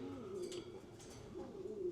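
Pigeons coo in a breeding loft with a row of nesting boxes, low soft rolling coos rising and falling close by, with faint chirps in the background.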